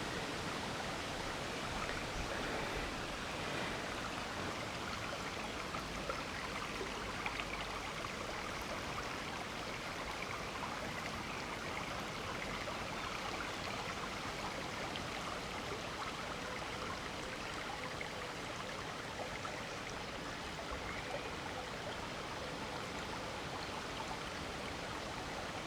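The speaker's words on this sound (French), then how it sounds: "Si je vous montrais le petit ruisseau, c'est joli, hein, là-bas dans le fond" A small stream in the countryside flows in the distance, a faint, steady rushing babble with no breaks and no voices.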